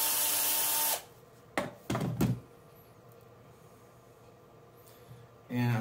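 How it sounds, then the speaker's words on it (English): A power drill at slow speed whirs loudly for about a second, then stops; a few short clunks follow before near silence, while winding a trifilar transformer on an FT37-43 toroid. "Now I've got my drill set to slow speed."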